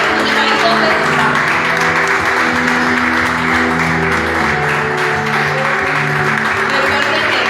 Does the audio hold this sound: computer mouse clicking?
no